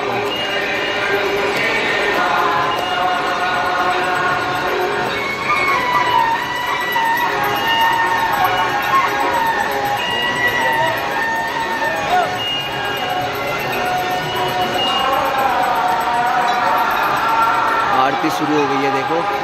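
A large crowd gathers for the Ganga aarti on the riverbank, a dense continuous murmur of many voices with a chiming bell and festival noise, close and loud, with someone talking over it.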